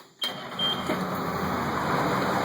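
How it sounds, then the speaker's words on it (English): A 1989 Chevy Thomas school bus engine cranks and fires up abruptly, then settles into a steady, loud idle that runs on close by without voices. "So let me cut on the bus."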